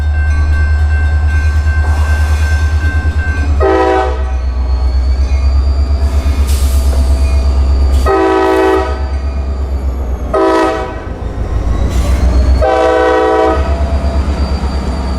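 A loud freight train rumbles steadily close by while its horn sounds in several long blasts, with pauses between them over the continuous roar.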